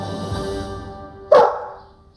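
A single sharp dog bark rings out close by, cutting through a low background hum before trailing off into an echoing decay, played in a comedy sketch.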